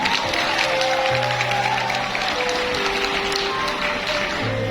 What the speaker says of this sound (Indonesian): Beri tepuk tangan untuk Ino.